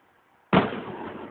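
A single sharp firework blast bursts out suddenly after a quiet moment, loud and close, then trails off into a crackling, rumbling decay, on a night out in Saudi Arabia.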